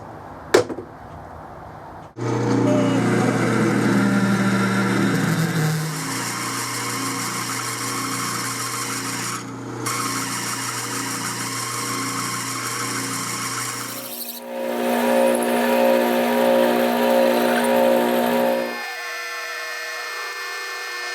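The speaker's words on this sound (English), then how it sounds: "I've got a real good quality 1/2 inch drill here, coated, extremely sharp, should do good on that stainless" A coated, sharp 1/2 inch drill bores into 303 stainless steel on a machine, a steady loud whine with strong tonal bands that shifts pitch partway through, then drops after about 18 seconds as the cut ends, with no talking.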